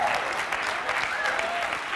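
At a speaking event, an audience claps in a steady wash through a talk, with a voice heard over the applause.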